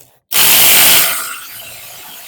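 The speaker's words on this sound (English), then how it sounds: "Now we tighten it completely." A bolt tightened on a Ford E-250/E-350 ball joint with a power tool: one abrupt, loud, harsh burst that holds for under a second, then trails off into a softer fading whir.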